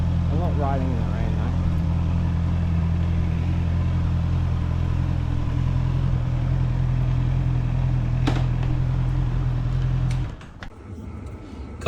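A steady low engine hum and road rumble fill a car cabin while driving, close and constant, under voices talking, then the drone drops away near the end.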